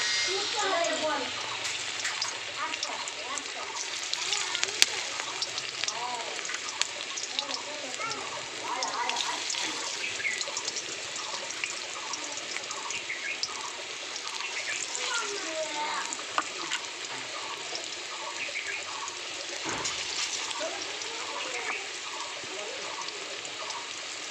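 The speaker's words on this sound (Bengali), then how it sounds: "গরম তেলে সজনে ফুলের বড়াগুলো আমি আস্তে আস্তে ছেড়ে দিলাম" Drumstick flower fritters sizzle and bubble in hot oil, a steady crackling fry throughout with occasional louder pops and a stir, while someone talks over it.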